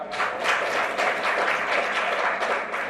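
Seated audience clapping at the opening of a Thai seminar on constitutional amendment, a moderate, steady round of applause with a few distinct louder claps, no speech over it.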